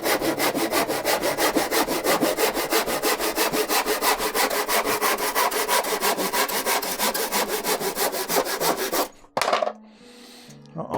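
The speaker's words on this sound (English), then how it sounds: "I thought I might be sawing into the bench, but I'm not." A hand saw cuts through wood on a workbench with fast, even rasping strokes up close. The sawing stops near the end, and a brief clatter follows.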